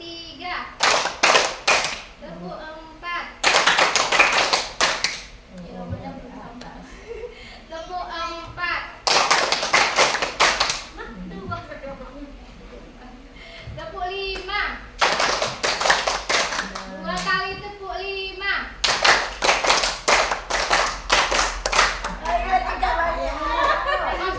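A group of children claps hands together in counted rhythmic bursts, sharp loud clusters of claps alternating with chanted counting and a leading voice between sets.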